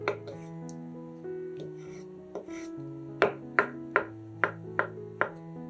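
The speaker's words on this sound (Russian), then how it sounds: "3 вареных яйца нарезаем кубиками." Knife cutting three boiled eggs into cubes on a board for a salad, a run of about six sharp, evenly spaced chops in the second half over a steady background drone.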